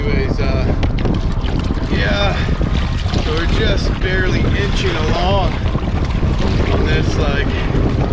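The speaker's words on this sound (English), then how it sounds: "Catamaran is not fast, let alone paddling into a headwind." Strong headwind roars and buffets the microphone while a catamaran is paddled slowly through a 1.5-mile stretch of narrows, with water splashing against the hulls and people talking over it.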